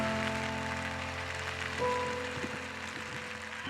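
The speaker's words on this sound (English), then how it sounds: "Sudden rain could cause problems for observing the test" Sudden rain falls during a bridge load test, a faint steady patter under low hums and a few scattered knocks.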